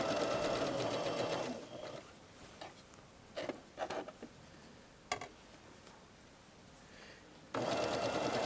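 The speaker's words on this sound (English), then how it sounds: "I'm going to sew slightly to the left." Sewing machine stitching a blouse sleeve seam, a steady fast mechanical whir at the start and again at the end, with quiet fabric handling between.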